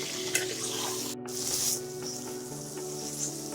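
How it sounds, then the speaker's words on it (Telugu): Raw banana slices frying slowly in oil over a low flame, a steady close sizzle with soft crackle and occasional stirring, no voices. "ఇది ఒకసారి లో ఫ్లేమ్లో పెట్టాం కదా మనం, స్లోగా ఫ్రై అవుతున్నది"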